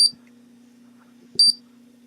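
A digital timer started during a chemistry demonstration gives two short, sharp high-pitched beeps about 1.4 seconds apart over a faint steady low hum, with no voices.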